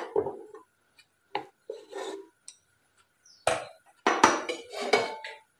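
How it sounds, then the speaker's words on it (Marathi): A metal cake tin set down onto a stand inside a salted, preheated pressure cooker while baking a semolina cake, giving a few separate clinks, scrapes and metallic knocks close up, with the busiest clatter toward the end and no talking. "आता आपण जे केक टिन आहे ते यामध्ये ठेवूया"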